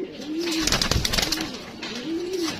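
Pigeons, high-flyer and fancy breeds kept for sale, coo in a close, soft, rolling call repeated about three times, with no voices.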